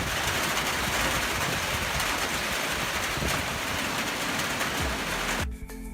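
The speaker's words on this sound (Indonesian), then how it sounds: "dan kemudian turun hujan." Steady broadband rain hiss falls continuously and fairly loud for most of the stretch, stopping abruptly near the end; no one talks.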